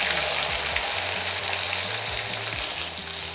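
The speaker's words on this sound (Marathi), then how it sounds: "ह्याला फक्त लसणाची फोडणी घालायची, असं टेचून छान लागतं." Garlic tempering sizzling loudly in hot oil, a dense continuous crackle and hiss of frying close by, with faint stirring clinks and no voices.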